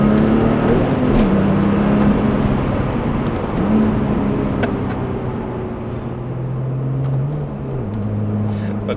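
A Porsche 996 Turbo engine drones loudly from inside the car on a winding Black Forest road, its pitch rising and falling through several gear changes with steady road noise underneath.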